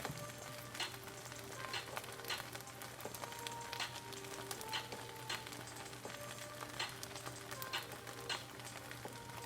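Rice stirred in a hot pan over high heat, a steady close sizzle and crackle of frying with faint scraping as it is moved around, no talking.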